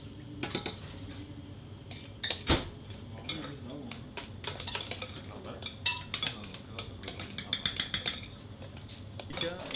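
Cooking in a pot during a French cooking lesson, a spoon scraping and clinking against metal in irregular bursts close up, with people talking quietly in between.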